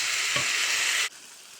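Beef with coriander fries in a pan for steak tacos, a loud, close, steady hiss and sizzle that drops suddenly to a quieter crackle partway through, with no talking.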